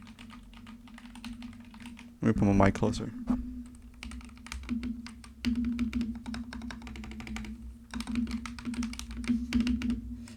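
Bursts of rapid mechanical keyboard typing, clicky and close, with a short spoken remark partway through and steady tapping resuming afterward.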